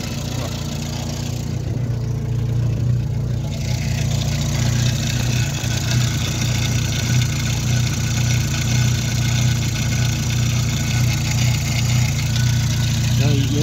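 A GTL engine idles steadily after starting on a newly wired ignition, a constant mid-pitched rumble close by with someone talking over it.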